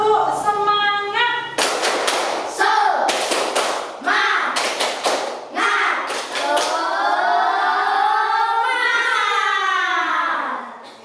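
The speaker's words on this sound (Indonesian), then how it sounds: "Tepuk semangat." A classroom of students performs a rhythmic spirit clap: loud, close hand claps come in quick patterned bursts, with young voices chanting at the start and the end.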